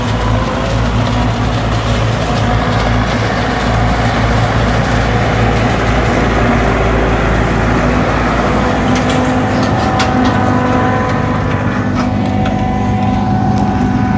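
Massey Ferguson 4292 and 4275 tractors chopping corn silage with a forage harvester give a loud, steady diesel drone with a constant mechanical hum and whine, close by, with no talk.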